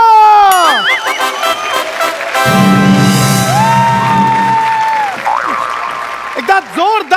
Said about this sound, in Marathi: जोरदार टाळ्यांनी स्वागत करूया विपुल पाळे याचं